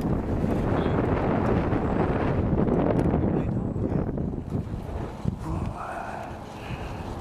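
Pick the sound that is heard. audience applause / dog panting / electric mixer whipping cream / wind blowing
wind blowing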